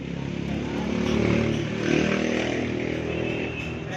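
A noisy Honda CB 125 motorcycle engine runs steadily and close, a loud rough drone that swells slightly twice and then settles.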